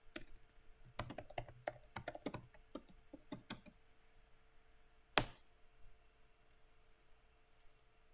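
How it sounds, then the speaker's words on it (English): Rapid keystrokes on a computer keyboard, a dense burst of close, crisp clicks for about four seconds, then a single louder key press and a few faint taps against a quiet room. "you can press the S key on your keyboard"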